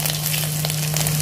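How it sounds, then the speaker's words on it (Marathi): Garlic sizzles as it hits hot oil with cumin and mustard seeds, a short dense crackling hiss over a low steady hum. "आता टाकणार आहोत लसूण"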